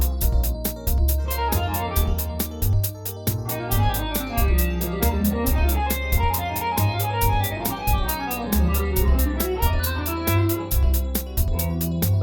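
An app plays a steady sequence of add 11 chords in close position, with keyboard-like tones and a low bass line moving underneath, dense and continuous, and nobody speaks.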